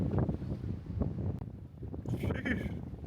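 Strong gusting wind at night while fishing, buffeting the microphone with a loud low rumble that swells and eases across the clip, with a brief brighter rush near the end.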